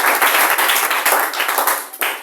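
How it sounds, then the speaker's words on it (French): A church congregation claps and applauds in praise, a dense, loud, continuous wash of many hands filling the hall for a couple of seconds. "Est-ce que nous pouvons donner un fond d'acclamation à notre Seigneur?"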